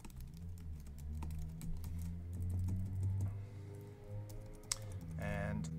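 Scattered keystrokes on a computer keyboard as a call sign and password are entered while setting up a Direwolf messaging igate server on a Raspberry Pi, with a steady tonal hum running underneath.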